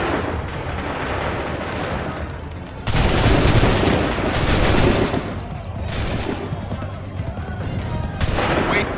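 Musket volleys in Assassin's Creed III erupt as loud, dense bursts of gunfire in waves, booming and crackling nonstop with a brief lull before the next roaring salvo.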